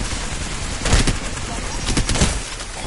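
Gunfire in the battle royale shooter Apex Legends, with two short bursts of shots around the one- and two-second marks over a steady bed of game noise, fairly close.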